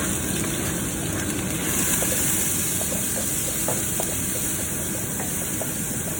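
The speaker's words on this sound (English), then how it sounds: "And you just fry that up a bit." Garlic, onion, capsicum and celery frying in a pan, giving a steady, even sizzling hiss with faint scattered pops and crackles throughout.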